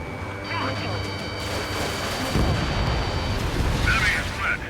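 Missile launches and explosions in the jet combat video game Ace Combat 7, heavy booms and rumbling blasts spread through the clip under radio-style voice callouts, with a steady tone and a few sharper bursts near the end.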